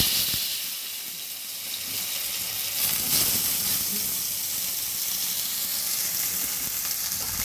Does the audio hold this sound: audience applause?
no